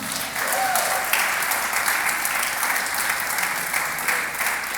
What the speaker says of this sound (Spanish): Dele un aplauso a mi Señor.